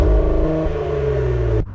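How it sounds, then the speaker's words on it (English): The engine of a 2024 Cadillac CT5-V performance sedan holds a steady, loud, rumbling high-revving note, then cuts off abruptly near the end. "But why would you want to when your car sounds like this?"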